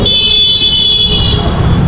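Car horns honk on a busy street in the Chikpet market area of Bangalore, with a steady blaring horn tone over the first second against a dense backdrop of road traffic noise.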